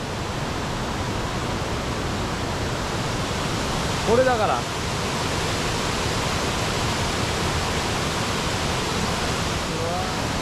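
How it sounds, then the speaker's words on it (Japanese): Waterfalls at Robert Barrios, several of them close by, make a constant, loud broadband roar of falling water that fills the whole scene. A short spoken phrase rises briefly above the rush. "ここ正面にいっぱい滝があるここにも滝があって"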